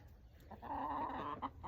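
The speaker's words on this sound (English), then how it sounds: "The chickens say hi." Soft, faint clucking of chickens nearby eating weeds, a low murmuring call with a few brief sharper notes, against quiet outdoor background.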